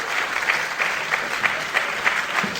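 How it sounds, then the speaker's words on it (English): Crowd applause at a St Albans retailer awards evening, dense even clapping from many hands with faint periodic peaks, close and sustained throughout with no clear talk. "Nice big round of applause there for Chantilly Interiors"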